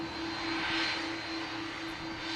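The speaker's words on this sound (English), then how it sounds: "We'll have to wait a few moments while the Virgin Atlantic climbs out." A Virgin Atlantic jet climbs out from Manchester Airport with a steady, moderately distant engine roar and a sustained whine running underneath, with no talking.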